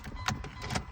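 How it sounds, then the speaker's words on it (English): A car stalling during a test drive in a C4, short bursts of engine and mechanical noise with a few uneven surges, close and fairly loud, no voices. "nothing like stalling your car."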